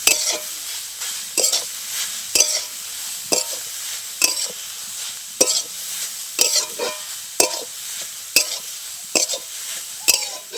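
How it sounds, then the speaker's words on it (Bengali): Grated radish and onion being fried and stirred in a pan, with regular scraping spatula strokes roughly every second over a quiet low sizzle, close by and without speech. "মূলোটা দিয়ে দিচ্ছি, এবার কিছুক্ষণ এইভাবে খুব ভালো করে আমি ভেজে নেব"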